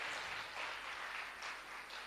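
An audience at a Bhagwat Katha gathering applauds, a dense steady patter of many hands clapping, distant and faint throughout.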